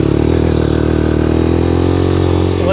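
A Yamaha Raptor 125 ATV with a carburetor fault idles far too high, its small engine running steadily and loud at close range with a constant buzzing drone and light mechanical clatter, no throttle applied and no talking.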